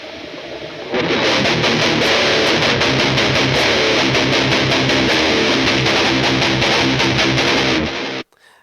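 Heavily distorted metal rhythm electric guitars chug in a dense, fast, driving riff, loud and saturated, cutting off sharply at the end.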